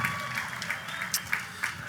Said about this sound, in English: Applaud for yourselves, applaud for all that you have done and will do.